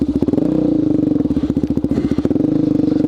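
Suzuki DRZ400SM supermoto motorcycle ridden off-road through woods, its single-cylinder engine chugging and revving close by with rhythmic pulsing throttle, plus clatter and scraping from rough terrain.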